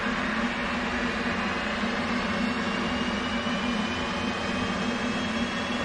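An F/A-18 jet engine in the DCS World flight simulator spools up with a continuous loud roar and a thin whine that climbs steadily in pitch, all at an even, close level.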